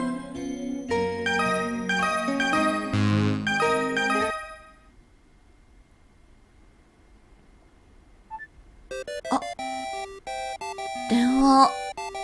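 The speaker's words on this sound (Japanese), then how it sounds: "電話。" A phone rings in the dating sim Tokimeki Memorial Girl's Side 3: a bright electronic ringtone follows game music and a quiet stretch, with a brief spoken interjection.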